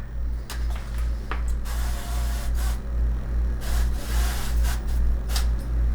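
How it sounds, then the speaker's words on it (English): Olive oil sprays from a spray bottle in a series of short hissing bursts over a steady low hum, close by and fairly loud. "Let me spray this little guy."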